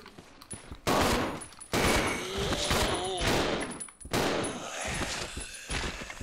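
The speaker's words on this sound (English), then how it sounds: "Somehow Billy's gun sounds a lot better." Gunshots in Resident Evil 0 come as loud, sharp blasts, three or four big shots spread across several seconds, each trailing into echoing noise.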